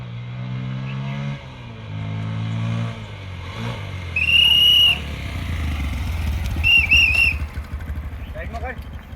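A motorcycle engine idles and revs nearby with a steady low rumble, while a shrill whistle sounds briefly over it and voices murmur in the background.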